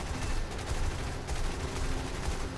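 A P-39 K1 fighter's guns fire in War Thunder, a dense continuous burst of rapid gunfire with heavy low rumble lasting a couple of seconds, loud and sustained.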